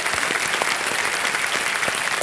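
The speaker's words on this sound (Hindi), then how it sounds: "एक बार फिर तालियों के साथ उनका स्वागत किया जाए।" Studio audience applauding on the set of the Hindi quiz show Kaun Banega Crorepati, a steady dense clapping that fills the whole moment, loud and continuous with no voices over it.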